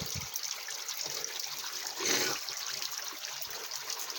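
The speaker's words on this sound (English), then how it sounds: "Rinse my hands off." San Gabriel mountain spring water flows steadily from its source as hands are rinsed in it, a continuous close trickle with one brief, louder splash midway.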